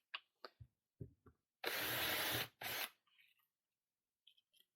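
A power drill fitted with a bent bit runs in two loud bursts, a long whirring run and then a short one, after a few sharp knocks and clicks nearby.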